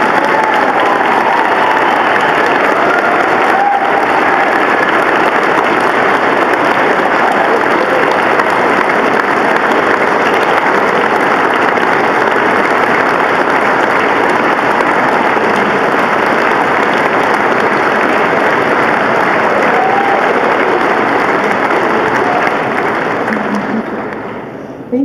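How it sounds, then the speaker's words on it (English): Loud, sustained applause from a large audience at a Wisconsin art competition award ceremony, thanking a teacher: a dense, unbroken roar of clapping that holds strong for over twenty seconds before fading at the very end. "Everyone could please join me in a round of applause thanking your teacher."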